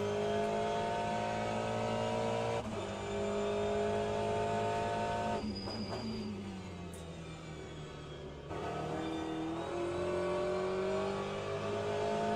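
Race car engine in the Le Mans Ultimate sim, loud and close, holding a steady high drone with harmonics, dipping briefly as revs fall and pitch sweeps down mid-run before climbing back under throttle; no talk.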